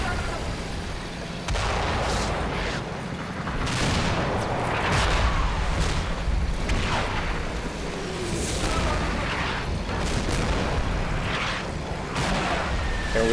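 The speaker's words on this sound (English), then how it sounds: "heavy artillery fire going on" Heavy artillery fire in the war game Combat Mission Red Thunder, during a German probe attack: a continuous barrage of booms and gunfire with repeated loud blasts and no pauses.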